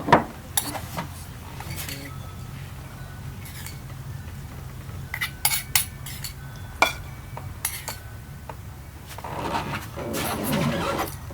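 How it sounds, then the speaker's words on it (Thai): Long beans and fermented fish are pounded in a mortar for som tam, giving scattered hard thuds and clacks over a quiet background, with a livelier run of knocking near the end. "ต่อไปก็ตำถั่วอย่างเดียวค่ะพี่อ้อยตำถั่วปลาร้าอย่างเดียว"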